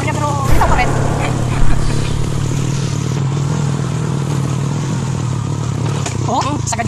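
A motorcycle carries a rider and a heavy passenger along a road in Rizal, Palawan, its engine giving a steady, close droning hum with light clatter while people chat over it.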